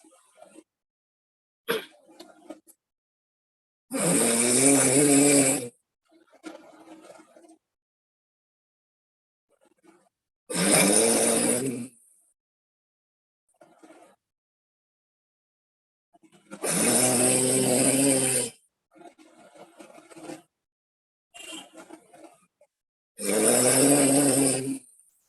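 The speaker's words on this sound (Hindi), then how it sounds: "अपने जीभ को अपने तलुए से लगाते हुए खर्राटे भरेंगे।" Ujjayi pranayama breathing done with the tongue pressed to the palate, giving loud rasping snore-like breaths in four long strokes with quiet gaps and small sounds between them.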